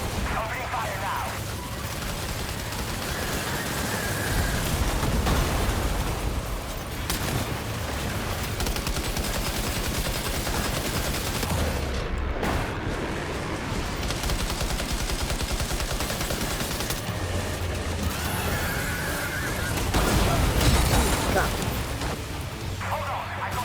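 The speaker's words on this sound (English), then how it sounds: "Opening fire now." Dense, continuous gunfire from the video game Death Stranding 2, loud rapid bursts packed together with heavy booms throughout, a voice speaking over the barrage.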